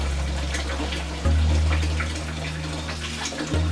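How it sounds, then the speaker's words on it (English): Hot tap water runs steadily into a casserole dish of scalloped potatoes, a loud, continuous gushing stream whose tone shifts as the flow changes and the dish fills. "Now I'm gonna get some hot water in there"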